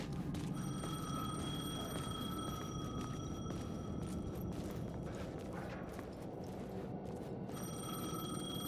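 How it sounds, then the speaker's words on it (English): A payphone rings in the video game Alan Wake, a steady repeating electronic bell ring that carries through the whole stretch over a dense, continuous background of ambient game noise, with no talking. "payphone was ringing"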